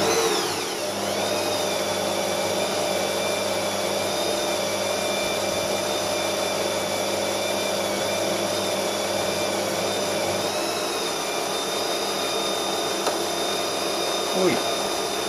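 A 3/8 drill bores up through a cast aluminium part, giving a steady, close motor whine that holds an even pitch for the whole stretch, with small shifts in tone and a brief knock near the end.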